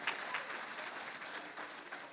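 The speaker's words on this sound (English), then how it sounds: "Just give him a round of applause please." An audience at a World Teacher's Day event applauds steadily, a dense wash of clapping that stays even and fairly loud throughout, with no voices standing out.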